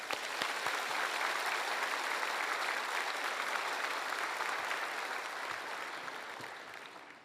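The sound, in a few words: church congregation applauding to welcome a pastor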